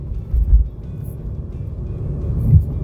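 A Volkswagen Golf 6 GTI Edition 35 drives along, a low steady engine and road rumble heard from inside the car, with slight swells in loudness and no talk.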